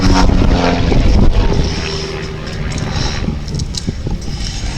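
Pitts S-1S Special aerobatic biplane flying at the Midlands Air Festival 2025, a loud continuous propeller engine drone that swells briefly and then settles to a steady, slightly softer roar.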